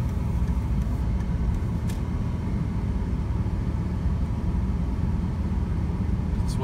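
A car with a refurbished 09G automatic transmission drives along, producing a steady low road rumble and engine drone with no distinct gear shifts.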